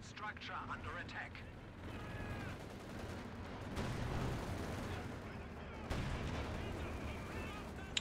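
Heavy tank cannon fire and battle rumble from a Panther tank duel in Company of Heroes 2, a few booming shots amid continuous dense combat noise, with someone talking over it.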